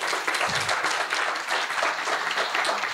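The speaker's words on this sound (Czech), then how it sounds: "Tímto bych chtěl malý potlesk tady pro kolegu." Lecture audience at a philosophy event gives a brief round of applause for a colleague, a dense, even patter of clapping filling the room for a few seconds with no talk.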